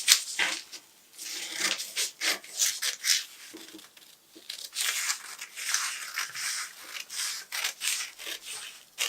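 Scissors cutting through a paper sewing pattern at close range: bursts of crisp snipping and papery rustling, one after another with short pauses, quiet overall and with no talk.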